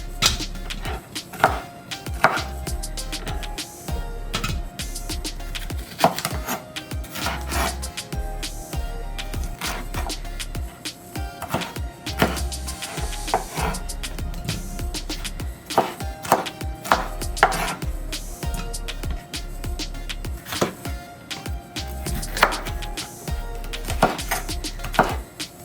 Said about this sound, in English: So cut the peppers into pieces